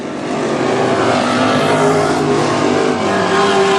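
WISSOTA Midwest Modified race cars racing around a dirt speedway, a loud continuous roar of engines at full throttle with rising and falling pitch as cars pass.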